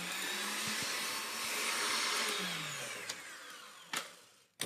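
Stand mixer whipping meringue for a pavlova, a steady loud motor whir that swells and then winds down, ending with a couple of sharp clacks and knocks, no voices.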